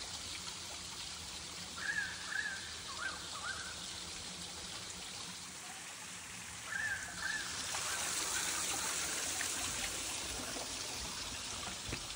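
A waterfall feeding a lake sends out a steady, broad rush of falling water that swells louder partway through, with a few faint high chirps above it.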